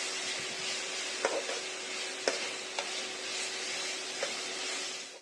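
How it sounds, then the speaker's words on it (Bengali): Ginger and garlic paste fries gently in oil for chicken biryani, a soft even sizzle with a faint steady hum and a few light utensil taps against the pan, close, no voices. "এক চামচ আদা বাটা আদা রসুন বাটাটা আমি একটু হালকা করে ভেজে নেব যাতে কাঁচা গন্ধটা চলে যায়"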